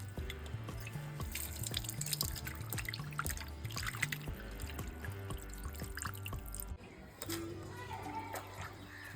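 Goat meat being rinsed with water for mutton curry: dripping and splashing water with clattering bits of meat against a bowl, a busy uneven trickle that runs throughout, with a faint voice in the background.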